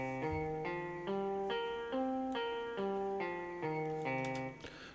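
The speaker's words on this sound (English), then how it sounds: "Starting on a C in your DAW's piano roll should look like this" A C pentatonic scale plays from a DAW piano roll as a clean synthesized tone, about eight evenly spaced notes stepping up and back down, quiet and alone.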